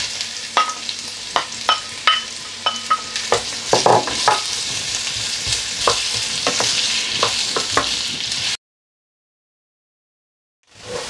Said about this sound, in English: we're going to add the onions into this, and we're going to fry them until they're really nice and golden brown in colour